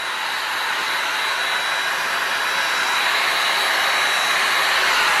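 Hot-air dryer blowing on freshly screen-printed ink over vinyl, a loud, steady whooshing roar with a faint high whine, close and unbroken throughout.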